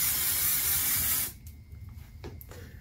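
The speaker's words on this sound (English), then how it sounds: "So, now that I've done this, maybe I'll spray it again." An aerosol can of hairspray hisses in one steady burst of about a second over freshly curled hair. Quiet handling rustles follow once the spray stops.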